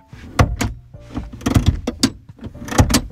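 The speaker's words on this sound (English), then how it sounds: "I'm sitting in a car with manually adjustable seats, and this is what they sound like" Manually adjustable seats in a Haval H6 GT being moved, giving a series of close mechanical clunks, clicks and rattling slides in uneven bursts, fairly loud with short pauses between adjustments.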